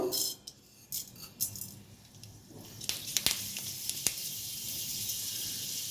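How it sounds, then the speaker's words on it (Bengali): Fenugreek seeds hit hot oil in a wok while a bottle gourd dish is being cooked, giving a steady, bright sizzle that swells after a few seconds, with a few sharp metallic clicks over it. "এবার আমি কড়াইতে প্রথমে মেথি ফোড়ন দেব"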